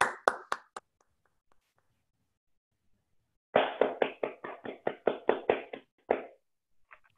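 Sparse hand claps from an online conference audience on unmuted microphones, a few quick claps, then a silent pause, then a burst of about a dozen claps, close and dry.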